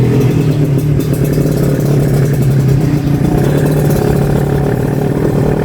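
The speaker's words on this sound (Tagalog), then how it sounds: "Sumasabak na naman sa galaan yung motor mo." A close, steady motorcycle engine hum runs continuously with wind rush on a rural road trip past rice fields in Nueva Ecija.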